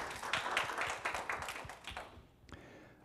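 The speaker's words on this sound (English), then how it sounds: "a round of applause for George" Brief applause from a conference audience welcoming a speaker: a short burst of scattered hand claps, moderately quiet and thinning out after a couple of seconds, ending with a single tap.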